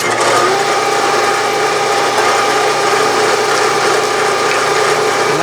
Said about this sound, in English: I'll drill this hole.